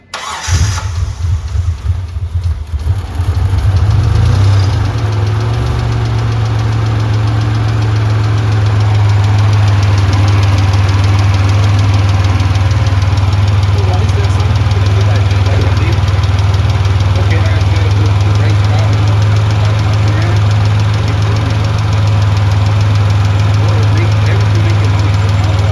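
Rebuilt 1995 Mitsubishi 3000GT engine cranking and firing up, then settling into a loud, steady, deep idle with a slight knocking texture; voices are heard briefly near the start.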